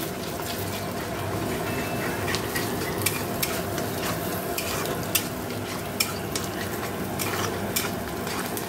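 An egg fries in a pan while pasta is being made, making a continuous sizzle with frequent scraping stir strokes and small sharp clicks of a utensil against the pan.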